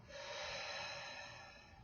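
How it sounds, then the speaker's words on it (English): A single long, steady exhale of breath out during a guided daily breathing practice, a broad airy rush sustained close to the listener for nearly two seconds with no talking. "Exhale out."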